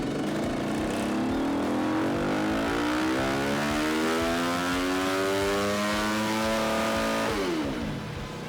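A motorcycle engine with a new exhaust runs on a dyno at half throttle, a loud continuous drone whose pitch climbs steadily for about seven seconds before dropping as the run ends.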